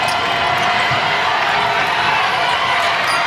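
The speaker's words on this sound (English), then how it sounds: "She wants the home crowd to cheer a little bit louder and a little bit harder." A home crowd at a women's basketball game cheers in a steady, loud roar that fills the arena without a break.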